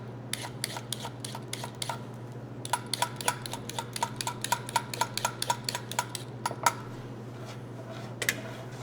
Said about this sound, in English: let's peel it all the way down